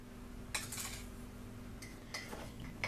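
A spoon stirring flour, sugar and crushed Speculoos biscuits in a mug makes a few sharp clinks against the ceramic over soft scraping, quiet and close, with no voices.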